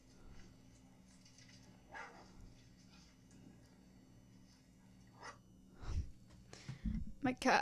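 Several dogs bark at neighbors, sharp yips and barks building toward the end, starting faint and growing louder and more frequent, with low background noise throughout.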